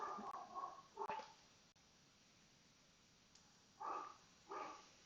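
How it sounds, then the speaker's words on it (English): A dog off in the background makes a few faint, muffled whines or whimpers in short bursts over a quiet room hiss, at the start and again near the end. "you can hear my dog in the background"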